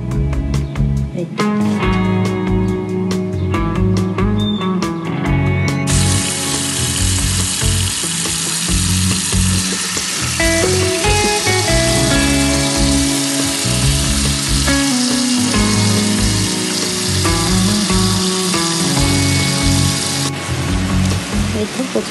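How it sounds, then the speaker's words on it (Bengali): Taro greens cook in a pot with onion, garlic, green chili and a little turmeric, giving a steady sizzle under continuous background music. "কচু শাকটা আমার সুন্দরভাবে সিদ্ধ হয়ে যাচ্ছে।"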